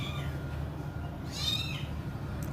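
A hungry stray kitten gives a single faint, drawn-out meow midway, heard over a low steady background hum.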